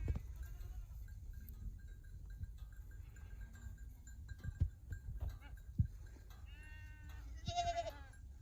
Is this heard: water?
no